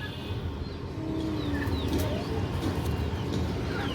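Pigeons kept for sale, including a female, coo softly in low repeated murmurs, with scattered chirps from other birds and a constant background hum throughout.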